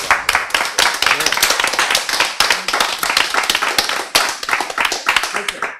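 An audience claps steadily and loudly at a Korean Bible lecture, a dense continuous patter of many hands filling the clip.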